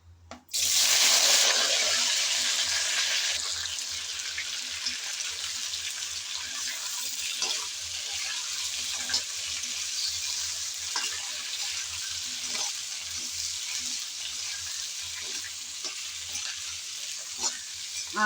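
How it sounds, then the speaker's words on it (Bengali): Chopped mango goes into hot oil with crackling panch phoron spices, setting off a loud hissing sizzle that settles into a steady, bubbling fry for the rest of the clip. "পাঁচফোড়ন ফুটতে শুরু হলো। এখন দিয়ে দেব কেটে রাখা আম।"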